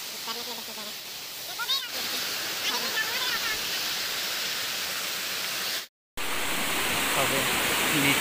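A waterfall near Patratu dam roars with a steady, dense rush of falling water close by. Faint voices drift over it, and there is a brief cut near the end.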